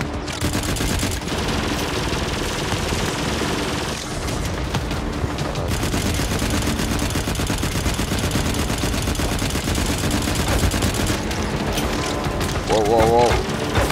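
Gunfire in the video game Firefall: sustained, dense automatic shooting and booms fill the whole stretch at loud, constant level, with someone speaking over it.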